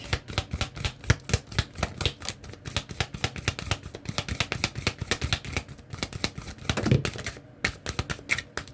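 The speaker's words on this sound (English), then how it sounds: "So bottom of the deck after shuffling" Rapid crisp riffling of tarot cards, repeated shuffles with dense clicking flutters, close and fairly quiet, with no talking.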